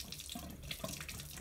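Steady water gushing from a burst valve on a Saxon electric hot water system, a constant broadband rush at close range with no talk over it.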